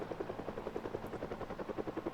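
A helicopter flies overhead in Project Zomboid, a steady rapid rotor chop, faint and distant, alone with no talking.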